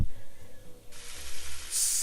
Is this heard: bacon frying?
yes